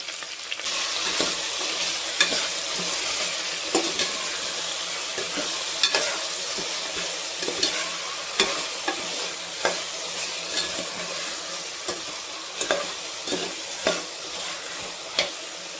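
Curry leaves, salt and spices sizzle steadily in a hot pan for veg pulao, with frequent scraping clicks of a stirring spoon at close range, no voices.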